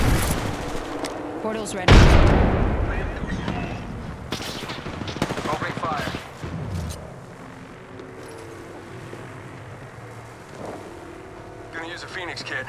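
Gunfire in the video game Apex Legends crackles in bursts amid explosions and game effects, loud early then fading, with a game voice talking and in-game announcements over it.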